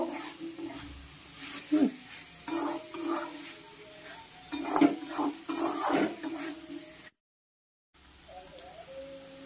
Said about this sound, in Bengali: এবার পটলের একটু ফ্লেম বাড়িয়ে একটু ভালো করে কষিয়ে নেব